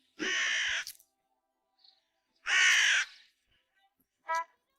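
A cartoon crow caws three times, two long harsh calls followed by a shorter clipped one, loud and close with silence between them.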